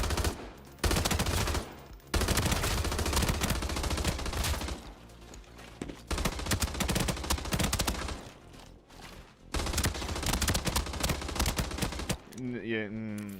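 Rapid bursts of F2000 rifle fire in a first-person shooter, loud and dense automatic volleys in several runs with brief gaps, ending in a short electronic sound.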